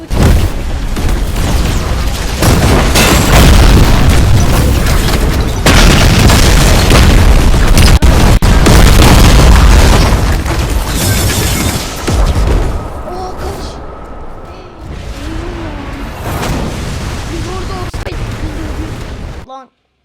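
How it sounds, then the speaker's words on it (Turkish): Explosions and bomb attacks in the video game The Strongest Battlegrounds: loud, dense booms and blasts pound almost continuously for about twelve seconds, then come in quieter bursts, with a voice talking over the game. "Şimdi arkadaşlar ateşleme patlaması ve bomba atışı bakın"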